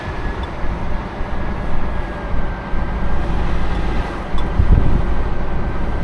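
Steady low rumbling crosswind from the left buffets a moving Scania truck, constant and loud throughout with a brief thump near the end.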